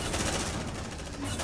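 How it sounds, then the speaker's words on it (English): Suppressive machine-gun fire in the video game Aliens: Dark Descent, a dense, continuous burst of rapid shots that fills the whole short moment, loud and close. "Suppressive fire!"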